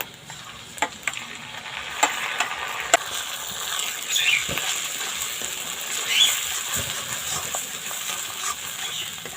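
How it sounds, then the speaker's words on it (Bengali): Moong dal paste fries over previously fried spices, with soft sizzling and occasional scraping and tapping of a spoon as it is stirred, close and without speech. "মশলাটা ভেজে নিয়েছি এখন মুগ ডাল পেস্টটা দিয়ে দেব"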